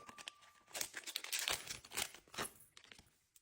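Crinkly plastic gift bag being opened and handled close by, with a run of sharp rustles and crackles over a few seconds, soft and alone with no talk.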